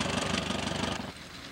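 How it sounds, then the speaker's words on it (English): Tractor engine pulling an antique wheat binder through a field, a mid-pitched chugging throb with even rapid pulses that drops off abruptly after one second to a quieter idle. "here comes the tractor and binder"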